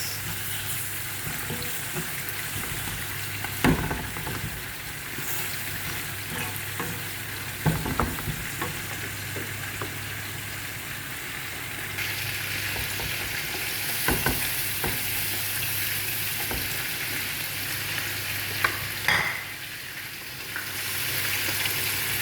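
Ginger, garlic and dried chili spice paste frying and being stirred in a pan for a fish curry, a steady sizzle with scattered clicks and scrapes of a utensil throughout, fairly close and moderately loud.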